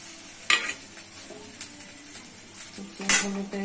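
Ginger-garlic paste is stirred into browned onions frying in a pan, with a soft sizzle under repeated clinks and scrapes of a metal spoon against the pan, close and moderately loud.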